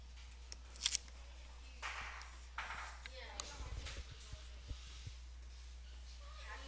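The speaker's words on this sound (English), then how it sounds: "I'm going to run a piece of tape" A strip of tape is pulled and pressed down during skimmer assembly, giving short soft rasps and crackles over a steady low hum, close and fairly quiet.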